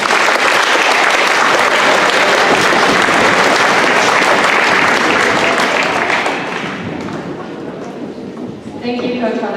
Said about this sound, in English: So clap it up for everyone.